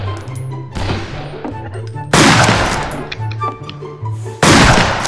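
Gunfire in the Western shooter game Fistful of Frags, three loud sharp shots about two seconds apart with echoing tails, over a low background tone.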